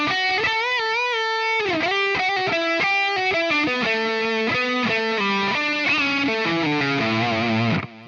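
A distorted electric guitar plays a fast solo run of quick successive notes with bends, loud and alone, ending in a descending flurry.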